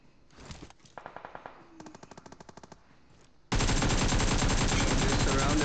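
Uzi gunfire in a shooting video game: several short rattling bursts, then a loud sustained stream of automatic fire that fills the final seconds.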